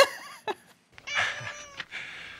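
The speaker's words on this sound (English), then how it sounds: "It was a cat." A cat meows several times in a scene from the 1993 film Leprechaun, the cries short and then drawn out, fairly close and clear against a quiet background, with a little voice-like sound mixed in.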